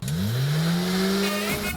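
A car engine revs hard and rises in pitch during a frantic chase, loud and close, holding a steady strained roar for nearly two seconds before dropping off at the end.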